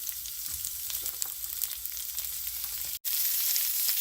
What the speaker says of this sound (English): I'm throwing it all in there. We're going to stir fry it a little bit